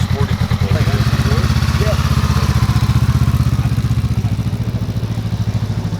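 A Honda Rebel 500 cruiser motorcycle engine runs close by, a steady throbbing idle with a fast low pulse and a faint mechanical clatter, continuous and loud throughout.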